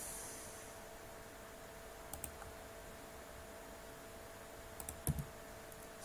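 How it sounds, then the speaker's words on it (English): A computer keyboard's space bar pressed while working in AutoCAD: a few faint, isolated clicks, some in quick pairs, over a steady low hum and hiss, with no talking. "space on my keyboard to cancel and space to enter the same command"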